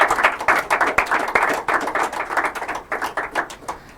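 Audience clapping for the lead speakers of Nana College and Ubeji Grammar School at an inter-collegiate debate competition in Nigeria: dense, crisp hand claps from a nearby crowd, steady for a few seconds then thinning slightly, with no talk.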